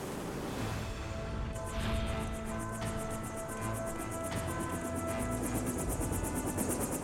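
A helicopter drones continuously with a rapid rhythmic rotor chop that grows clearer partway through, over a dense rumbling background.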